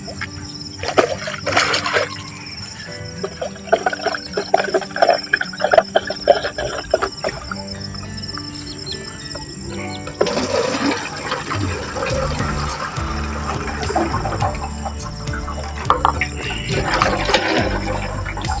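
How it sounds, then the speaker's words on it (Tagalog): Insecticide being mixed with water for spraying on a rice paddy, with liquid splashing and trickling steadily up close, growing louder and more continuous in the second half, while a voice speaks intermittently in the background. "Yan po natin i-mix sa tubig kasi mga siya malapot."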